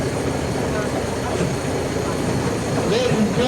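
A swamp tour train in the Okefenokee Swamp rumbles along steadily with a low rolling drone, and a few faint voices murmur over the ride.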